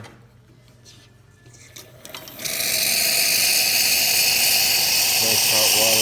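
A Pasquini Livia 90 espresso machine dispenses hot water. After a quiet start with faint clatter, a loud, steady rushing hiss begins and continues to the end, and a voice briefly sounds over it near the close.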